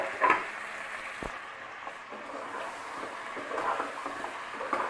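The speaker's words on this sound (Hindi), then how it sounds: "उसके बाद मैं इसमें ऐड करूंगी चिकन और चिकन को करूंगी अच्छे से फ्राई।" Chicken frying in a pan for Sindhi biryani gives off a steady low sizzle with a few stirring clatters and a sharp knock, heard close and moderately quiet throughout.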